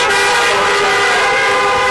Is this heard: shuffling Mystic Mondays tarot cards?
no